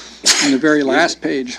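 A single sharp sneeze bursts out during a town planning and zoning meeting, followed at once by a person speaking close to the microphone.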